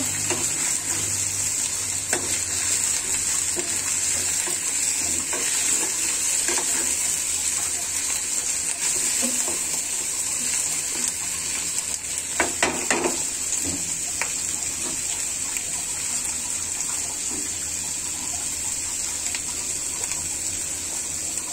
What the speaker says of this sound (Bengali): ডালটা আমি ভেজে নিয়েছিলাম। একটু ভেজে নিব।